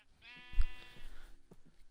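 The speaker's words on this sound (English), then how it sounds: "Floating sheep." Sheep bleating in the Minecraft video game: one wavering, nasal bleat that rises clearly and then fades, followed by a few quieter game sounds.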